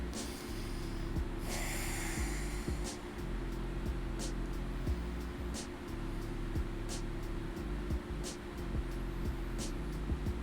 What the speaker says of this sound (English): Breathe in and out through the nostrils, organically, however the body wants to breathe.